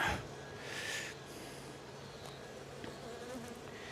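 Honey bees in an open hive make a steady, dense buzz throughout, close and continuous, with a few louder swells as individual bees pass near.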